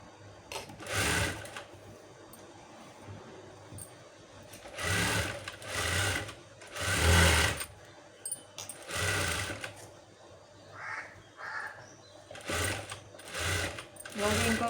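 A sewing machine stitches a blouse in short, loud, buzzing bursts separated by pauses, with a voice speaking between and around the runs.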